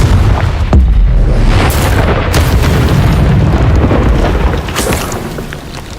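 A Confringo blasting spell goes off in Hogwarts Legacy as a loud, close booming explosion that rumbles on and fades slowly, with no talking.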